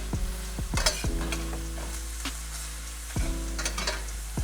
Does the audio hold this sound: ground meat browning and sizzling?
yes